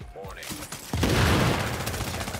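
A shotgun blast in The Division video game, a sudden loud boom with a rolling tail, after excited speech from players over dense game noise.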